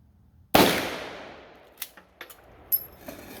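A bolt-action AR rifle fires one sharp, loud shot that rings out and decays, followed by several softer clicks and clacks of the bolt being worked.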